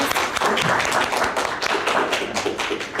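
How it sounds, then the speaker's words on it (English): Applause for graduates at a service dogs for veterans graduation ceremony: dense, steady clapping from an audience, fairly close and sustained with no talking. "Let's give a round of applause for our graduates."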